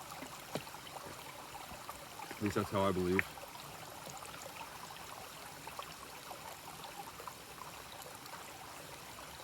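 A stream at a water source along a hiking trail on the Eagle Rock Loop gives a steady, soft rushing wash throughout, with a short burst of a man's speech near the start.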